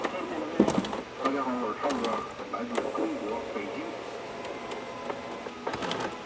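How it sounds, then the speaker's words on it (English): A Creality K2 Plus 3D printer loads two rolls of filament, giving soft motor whirs, feeding clicks and a few sharp taps at close range, with someone talking over much of it. "That's how easy it is to load two rolls of filament."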